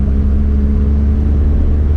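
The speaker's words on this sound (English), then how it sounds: "engine and induction sounds and stuff" A Toyota Corolla AE111 engine hums steadily with a deep, loud rumble and intake drone, holding an even pitch without revving.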